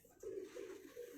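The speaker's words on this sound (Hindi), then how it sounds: "ये कबूतरी है जालदार कसूरी" A female Kasuri pigeon coos in a short, soft rolling call of two or three warbling pulses, close by and faint.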